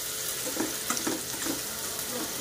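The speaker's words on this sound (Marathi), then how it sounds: "कांद्याला थोडंसं परतवून घ्यायचं" Finely chopped onion sautéing in hot oil in a wok, a crackling sizzle close by with faint scraping stirs at a gentle, irregular pace.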